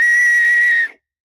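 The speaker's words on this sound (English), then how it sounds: "you're going to attempt to whistle through the rim of the acorn" A shrill, steady whistle blown through an acorn cap held between the thumbs outdoors, one sustained piercing tone lasting under a second before cutting off into silence.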